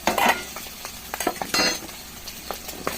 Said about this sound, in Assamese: তাৰপিছত আলু আৰু বিলাহী দিলোঁ।